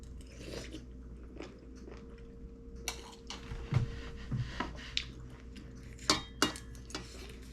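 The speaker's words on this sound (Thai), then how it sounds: "มาพี่น้องกินข้าวกับแกงเห็ด" Someone eats rice with mushroom soup, with soft chewing and bites alongside scattered clinks of cutlery and dishes, fairly close and quiet, with a few sharper taps toward the end.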